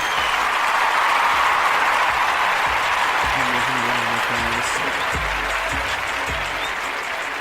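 A crowd applauds steadily in a broad, continuous wash of clapping while a voice speaks underneath partway through.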